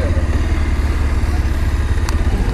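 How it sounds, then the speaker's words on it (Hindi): A motorcycle engine labouring loudly and close while the bike is stuck in sand with its tyre skidding, a continuous throbbing drone. "पूरा पूरा सैंड में बाइक फंस जा रहा है"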